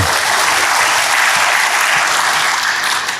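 A church congregation claps for God in loud, dense, continuous applause that rolls on evenly and tapers slightly at the end, with no voice on top.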